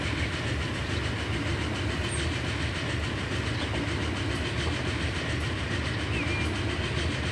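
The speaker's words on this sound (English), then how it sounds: "Acceleration is alright on this train." A 1900-era steam train in the Transport Fever 2 game accelerates along the rails, producing a steady, loud rolling rumble with faint rhythmic wheel clatter that continues without pause, and no voices are heard.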